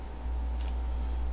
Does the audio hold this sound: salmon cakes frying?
no